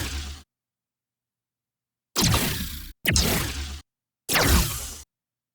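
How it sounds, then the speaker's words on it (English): Three sharp laser-shot effects from a video game, each a short bright burst with a quick decay, fire in a close, loud sequence. They are set off by silent gaps, and a fourth shot is cut off at the very start. "And lastly, we have some laser shots, which sounds like this."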